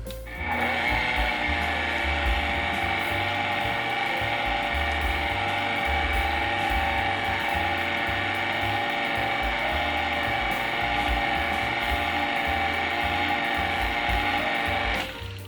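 An electric mixer runs on low through Biscoff pound cake batter with flour, a steady mechanical whir with rhythmic clattering beaters that continues evenly for about fifteen seconds, close to the microphone.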